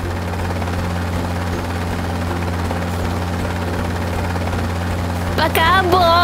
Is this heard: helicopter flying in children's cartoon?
yes